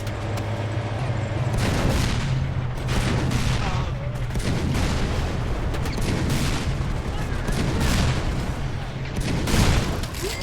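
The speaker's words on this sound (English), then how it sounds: "That was a nice explosion." Explosions and heavy gunfire from combat in Mercenaries 2: World in Flames, loud repeated booms and bursts layered over one another with little pause.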